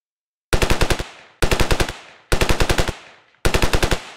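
A modded gun in Ravenfield fires 100 projectiles per shot, four loud bursts of rapid cracking reports, each salvo a quick rattling cluster with a decaying tail, spaced about a second apart.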